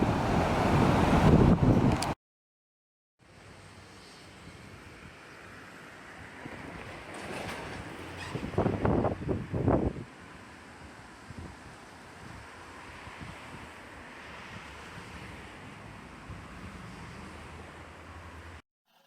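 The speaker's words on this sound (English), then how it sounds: "You can see there's quite a bit of water flowing through here." Water rushes steadily through a channel beside a lock on the old Third Welland Canal, a broad continuous hiss heard outdoors under wind buffeting on the microphone, with a brief louder gust partway through.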